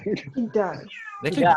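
A pet cat meows loudly and close by, giving a few drawn-out, wavering calls, while a person talks around them.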